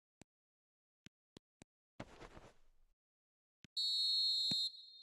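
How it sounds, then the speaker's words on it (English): A referee's whistle blows for half-time in an eFootball match, one sharp shrill blast after a few faint clicks and a brief crowd rustle, with quiet gaps around it. "And the whistle goes for half-time."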